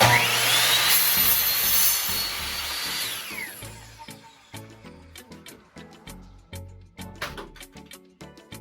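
A power saw cuts through scrap wood, trimming off a split end: a steady loud whine for about three seconds, then a run of sharp knocks and clatters as the offcut and tool settle.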